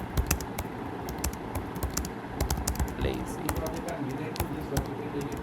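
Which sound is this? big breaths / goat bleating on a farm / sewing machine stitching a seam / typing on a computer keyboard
typing on a computer keyboard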